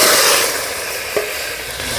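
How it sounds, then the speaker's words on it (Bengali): Cut potatoes hit hot mustard oil in a wok, bursting into a loud, close, continuous sizzle and hiss that eases slightly after the first moments. "আলুগুলো কেটে রেখেছি এবারে দিয়ে দিচ্ছি কড়াইতে"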